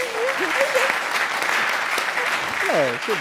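Audience applause at a Tamil television quiz show, a steady broadband wash of clapping throughout with a voice speaking over it.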